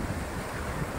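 Sea waves washing onto a black-sand beach at Morong, Bataan, a steady broadband rush with light wind noise, continuous and fairly close, no voices.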